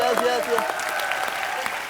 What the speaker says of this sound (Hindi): एक बार हमारे सारे चैंपियंस के लिए जोरदार तालियां।